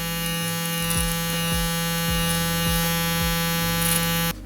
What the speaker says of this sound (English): Let's grab our shaver.